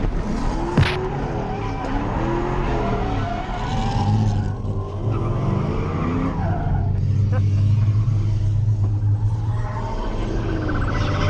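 Engines rumble and tires screech as cars slide close together, with excited voices talking over the noise.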